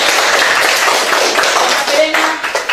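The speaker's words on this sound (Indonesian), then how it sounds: "Tepuk tangan buat Andika." Hands clapping in an Indonesian classroom during a teaching lesson, a brisk round of applause from students that fades toward the end, with a brief voice and some taps breaking through.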